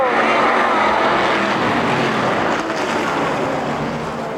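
Midget race cars from 1988 roar off the green flag on a quarter-mile oval, a dense, loud wall of engine noise that holds steady as the pack pulls away, with no talk over it.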